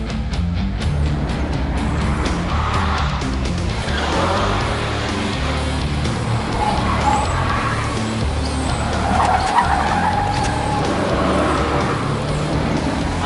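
Race car tires skidding under brake lockup during a stunt driving run, a sustained loud roar of engine and tire scrub with squealing streaks, continuous and close throughout.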